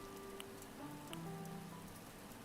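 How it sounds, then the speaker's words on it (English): Steady rain falling outside, a soft, even patter of drops on a surface running throughout at low volume, with a faint tonal hum underneath and no voices. "Oh, it's raining outside."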